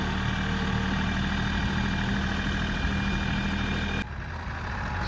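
A tractor engine idles on a farm, a steady loud low rumble with a constant hum that dips slightly near the end, with no talking.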